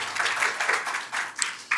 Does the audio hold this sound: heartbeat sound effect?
no